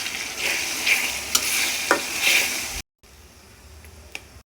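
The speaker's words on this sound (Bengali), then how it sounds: "সব মশলাগুলো একসাথে একটু নেড়ে নেব।" Spice pastes of cumin, mace and nutmeg are stirred together in a hot pan, making a close, soft sizzle with a few scrapes before the sound drops suddenly to a faint hiss.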